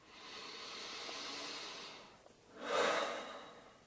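Deep, slow breathing close by with no voice, a long airy exhale lasting about two seconds, a short pause, then a stronger breath through the nose.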